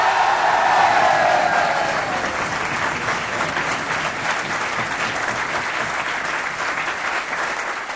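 Loud, steady applause from a student audience fills a university auditorium at the start of a televised talk show, a dense wash of clapping that holds for the whole stretch and eases only slightly toward the end.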